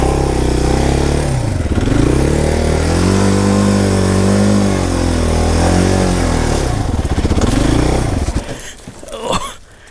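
A dirtbike engine revs loud and close with rising and falling pitch sweeps, then stutters and dies near the end, leaving a few weak sputters and quiet on a trail beside a steep hill.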